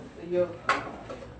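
In a cramped kitchen, someone rummages for a cooking pot: a quick clatter of cookware and a drawer knock break the quiet, with voices murmuring faintly nearby.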